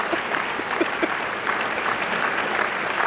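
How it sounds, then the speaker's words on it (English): Audience applause at an MLK diversity awards ceremony in Tempe, a steady wash of many hands clapping at close range, sustained and even for about three seconds with no voices on top. "You can clap."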